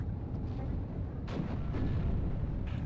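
Artillery fire in the World War II strategy game Steel Division: Normandy 44, a steady low rumble of distant shelling with a few muffled thumps breaking through, moderately loud and continuous.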